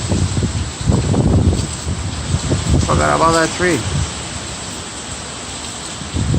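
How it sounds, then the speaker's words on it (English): Strong, gusty wind during Hurricane Irma: steady roar and buffeting with rustling foliage and rain-like hiss, heavy throughout, and a person speaks briefly in the middle. "It's getting crazy windy."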